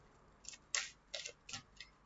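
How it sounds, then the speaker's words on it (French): Tarot cards being shuffled by hand, a handful of short crisp riffling snaps in an irregular rhythm, close and fairly quiet, with no voice. "On va bien mélanger les cartes."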